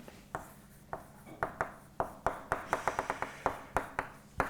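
Chalk or marker taps and scratches across a board during a mathematics lecture, a series of short, sharp strokes in uneven rhythm, close and moderately loud with no talking.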